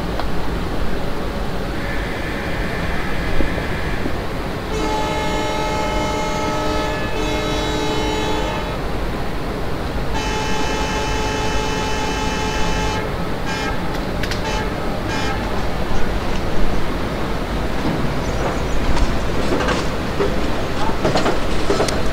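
Bhusaval-Katni passenger train departing Raver station in MSTS Open Rails, Indian Railways simulation, with steady rumbling running noise and repeated strong tonal horn blasts in several bursts, then a busier clattering stretch near the end.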